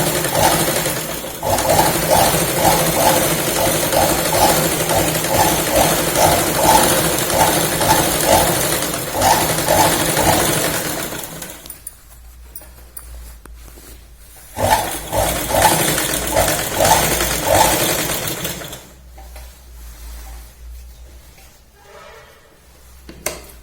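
A sewing machine runs in rapid rhythmic bursts while double-stitching a salwar, stopping and restarting between seams, steady and close against a quiet room.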